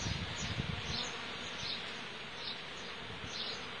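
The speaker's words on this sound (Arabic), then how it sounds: "لا أعرف اسم هذا النحل، وإنما هو نحل بري هنا بالهضاب العليا للجزائر" Wild bees forage on phacelia flowers in the Algerian high plateaus, giving a steady, faint buzzing hum close by with soft rising and falling passes, heard alone without voices.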